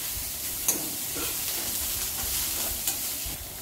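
Crushed okra sautéing and being stirred in a hot pan, a steady close sizzle with light scraping stirs throughout and no talk.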